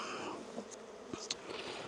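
Honeybees buzz inside an opened hive box during a spring inspection, a soft continuous hum with a few nearer passing buzzes, in wind.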